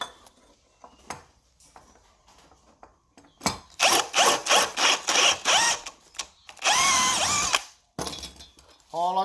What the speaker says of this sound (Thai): ผมก็จะขยายรูด้วยดอกสว่านเจดีนะครับผม